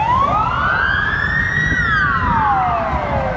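A wailing emergency siren sweeps up and down through a long rising then falling tone, loud and close over steady low traffic rumble, heard at a Belarusian military parade where an ambulance is passing.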